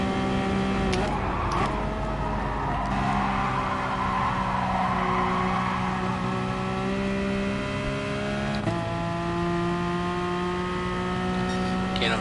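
LaFerrari racing engine in Gran Turismo Sport, a steady high-pitched sustained drone with clear harmonic tones that shift as gears change around the ninth second, loud and continuous throughout.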